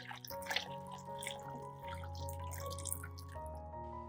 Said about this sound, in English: Add a little water to wet the apple peel.